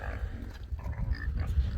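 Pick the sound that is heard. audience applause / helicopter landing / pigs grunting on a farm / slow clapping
pigs grunting on a farm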